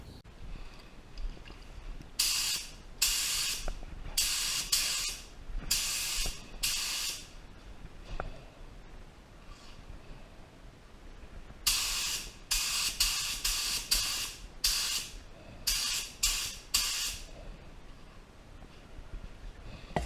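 A Black Widow spray gun with a 1.7 tip lays down blue metal flake paint in repeated sharp hissing bursts of a second or so, separated by brief pauses, close and fairly loud with no talk.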